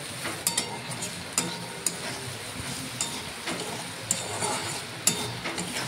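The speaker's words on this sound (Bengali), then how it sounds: "ভালো করেই ভাজা হয়ে গেছে আলুটা।" Potatoes frying in a pan at home, a soft sizzle beneath occasional sharp taps and scrapes of a stirring utensil, faint and close, with no speech.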